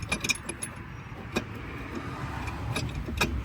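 A Polaris Sportsman 500 ATV engine idles with its clutch turning, a steady low mechanical hum and rattle carrying a few sharp metallic clicks and ticks, close up.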